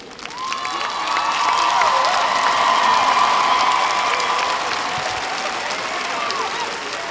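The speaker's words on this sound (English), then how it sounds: "give your heroes a heartfelt round of applause for all they have done to support you." A graduation ceremony audience gives a sustained round of applause that swells within the first second and holds steady, with some cheering and shouts mixed into the dense clapping.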